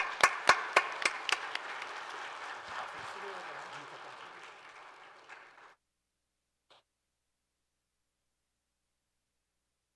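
A church congregation at a Sunday morning service claps in welcome, bright sharp claps at first that thin into a fading ragged patter and stop after about six seconds, leaving near silence.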